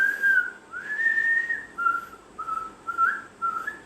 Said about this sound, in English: always whistling the latest pixie song